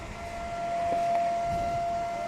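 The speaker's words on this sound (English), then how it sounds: "That is an external siren. That has nothing to do with our broadcast." An external civil defense siren sounds during a high school soccer broadcast, a steady sustained tone slowly swelling in loudness over crowd and field ambience.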